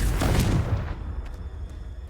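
A Confringo fire spell cast in Hogwarts Legacy, a single blasting burst up front that fades into a low, rumbling decay with faint crackles trailing behind.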